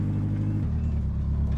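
A car labouring uphill off-road in the Border Officer video game, a steady low engine drone that shifts down in pitch partway through, continuous and close.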